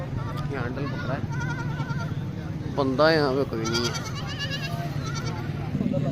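Goats bleating at a busy goat market in Sahiwal, several wavering, nasal cries rising over a constant crowd murmur, while someone talks close by in Urdu/Hindi.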